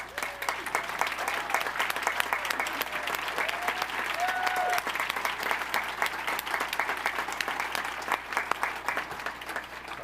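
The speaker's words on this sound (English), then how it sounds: "so that we may applaud your remarkable academic accomplishments" A graduation crowd applauding standing honors students in biochemistry and chemistry, steady and dense clapping throughout, with brief faint voices and whistles mixed into the continuous applause.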